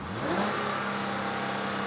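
A six-cylinder car engine revs up close, a steady loud roar that rises in the first half second and then holds at a sustained throaty drone, with no voices over it.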